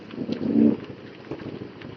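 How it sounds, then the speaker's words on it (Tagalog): Heavy rain thickening into a steady downpour, a soft, continuous hiss of drops on surfaces with a brief swell of louder patter partway through. "Ayan na, lumalakas na ulan."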